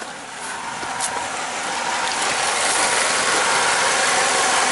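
A 2009 Chevy Cobalt engine runs steadily with a constant misfire on cylinder 3, giving a loud, continuous mechanical clatter and uneven ticking throughout, with no talk over it.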